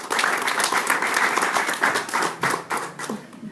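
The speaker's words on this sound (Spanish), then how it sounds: "para quien pido un aplauso, por favor." Audience at a democracy symposium in Veracruz applauds for an introduced official, steady close clapping from many hands throughout with faint voices underneath.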